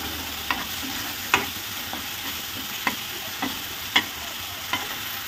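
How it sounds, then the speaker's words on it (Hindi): Green chili and garlic paste fries in a pan at a dhaba-style kitchen, a steady low sizzle broken by a few sharp, separate spoon strokes scraping the pan, close and unaccompanied by speech. "इसको भी हम 2 मिनट के लिए इसी तरीके से फ्राई करेंगे"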